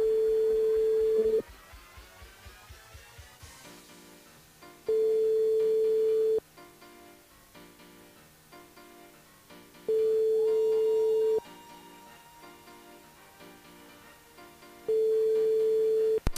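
Repeating telephone line tone on a radio show game call that nobody answers: loud steady beeps about a second long return every few seconds, separated by stretches of softer ringing and background music.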